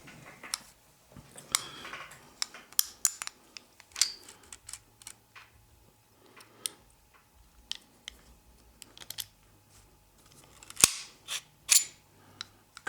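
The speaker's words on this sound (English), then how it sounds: "Takedown of the pistol is very easy." A Girsan 1911 pistol is field-stripped at close range, with sharp metallic clicks, slides and snaps of parts coming apart, separated by short quiet gaps.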